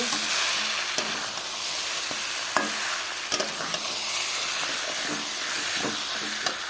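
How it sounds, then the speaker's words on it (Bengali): Mutton sautéing in a pan for a Bengali mutton dish, a loud continuous sizzle and hiss with occasional stirring clicks and scrapes, close up and without speech. "দেখো বন্ধুরা আমার মটন কষানো হয়ে গেল"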